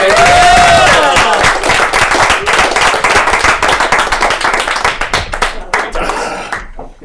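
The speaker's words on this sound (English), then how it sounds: "Raghu Adibhatla, everybody! Give a round of applause!" A comedy club audience bursts into loud, dense applause for a comedian, with a few whoops and cheers at the start, then the clapping thins and fades out near the end.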